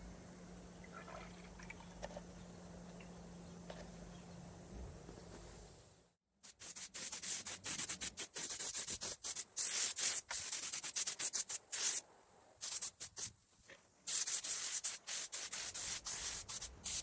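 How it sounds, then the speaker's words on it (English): Mixing stick stirs 2K paint and thinners in a container, giving close, irregular scraping and sloshing strokes after a quiet opening. "I mix that with my mixing stick."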